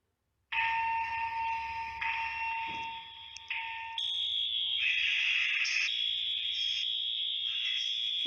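A fire alarm sounds loudly and continuously, with shrill high-pitched tones that shift in a repeating electronic pattern and no voices.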